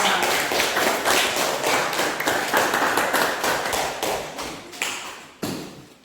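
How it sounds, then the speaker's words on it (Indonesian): Students in a classroom clap together after a lesson evaluation, a steady burst of many hands tapping in quick, irregular rhythm that fades out near the end, loud and close with no talking. "Jadi tepuk tangan ayo."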